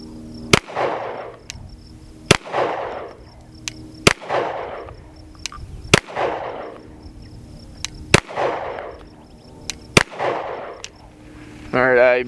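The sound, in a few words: gunshots fired at a target to test a rifle optic's zero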